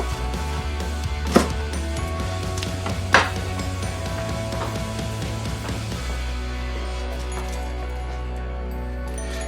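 Knife cutting the tip off a vegetable while a cottage pie is being made, two sharp chops against a board over a steady low kitchen hum.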